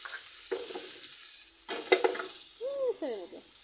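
Finely chopped onion, garlic and cilantro cooking in a pan, heard as a soft sizzle broken by a few scraping stirs and light clinks of utensil against the pan, close by and fairly quiet.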